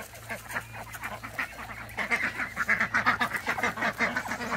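A flock of ducks quacking in rapid overlapping bursts, loud and close, with a steady low hum underneath.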